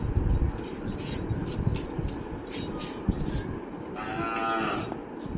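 Cow and calf lowing near the end of a milking session, with a clear drawn-out moo rising over steady rustling barn noise and faint background sounds.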